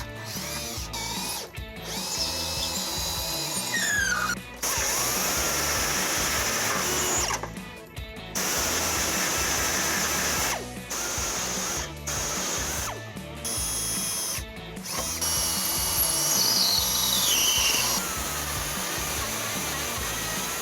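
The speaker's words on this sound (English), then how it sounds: "I'm going to start off with a 3/16 drill bit and then step my way up to make our hole as big as we" Power drill running a 3/16 bit through the underbody of a 2017 Toyota Camry for a trailer hitch hole, grinding in repeated bursts with short pauses, close and steady.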